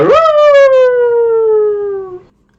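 A single dog howl rings out loud and alone, rising briefly and then sliding slowly downward for about two seconds before cutting off.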